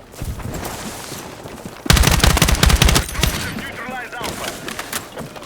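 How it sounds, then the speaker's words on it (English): Loud pistol gunfire in the Battlefield 6 video game, a tight volley of shots about a second long in the middle, framed by quieter game ambience and someone talking before and after. "it sounded like he had a pistol of some kind"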